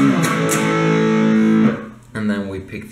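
Distorted electric guitar plays an intro riff, with sustained chugging chords for about a second and a half, then a brief drop and a fresh burst of picked notes.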